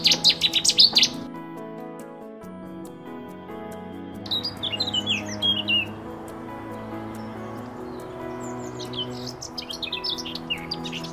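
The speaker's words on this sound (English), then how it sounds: "The Chetty's warbler and the black cap try to mark their territory with singing" A Cetti's warbler and a blackcap sing in quick bursts of high twittering notes, alternating between the two against a soft background hum, in spring marshland.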